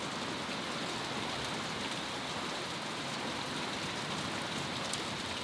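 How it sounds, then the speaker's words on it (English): Steady, constant rain falls on an outdoor homestead garden, a dense even hiss that fills the whole stretch without a break and with no voices. "We have had constant rain since yesterday afternoon."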